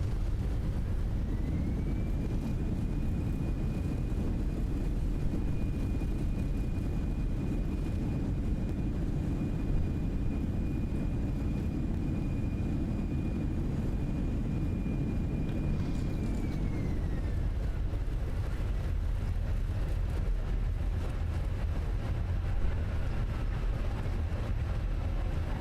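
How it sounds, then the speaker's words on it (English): Airbus A320 in the Fenix A320 flight simulator, an Air Asia flight landing in Thailand, with engines spooling up into a loud, sustained reverse-thrust roar and a high whine, then dropping away as the aircraft slows. "Reverse thrust."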